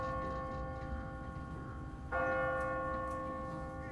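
A church bell in The Walking Dead video game rings out with a sustained, steady metallic tone, swelling louder about halfway through and holding its ringing hum to the end.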